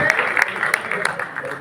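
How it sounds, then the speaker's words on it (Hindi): Brief burst of audience applause at a live Hindi poetry recital, a dense patter of many hands clapping, moderately loud. "तालियां वालियां जोरदार बजा सकते हो आप लोग।"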